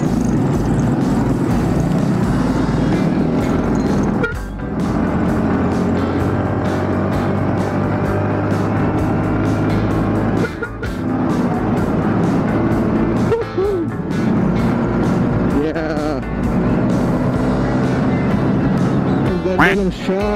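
Yamaha Mio scooter with RCB A2 series rear shock riding along a road and overtaking, a steady loud engine drone and wind rush throughout with brief dips, under occasional speech.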